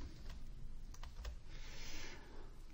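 Typing on a computer keyboard while a network simulation is set up, with a steady run of key clicks close by and a few louder keystrokes over a constant background hum.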